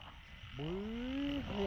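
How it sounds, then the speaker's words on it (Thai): Egg-bearing female Kaloula frog croaks in one close, clear, drawn-out rising call over a quiet background, with a brief second call starting at the end. "อึ่งครับอึ่งอึ่งแม่ไข่ อึ่งแม่ไข่เนาะแม่"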